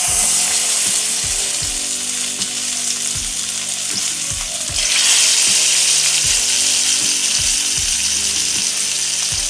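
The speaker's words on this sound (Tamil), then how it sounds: "இப்போ நம்ம பாறை மீன் ஃப்ரையை வறுக்கலாம்." Trevally fish pieces coated in masala fry in hot oil on a tawa over a low flame, giving a loud, continuous close sizzle that swells partway through, with faint scraping underneath.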